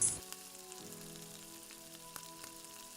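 Garlic and onion frying in a pan for tilapia, with a faint, even sizzle carrying steadily after a brief louder clatter at the start.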